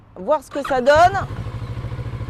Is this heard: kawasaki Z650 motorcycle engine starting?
yes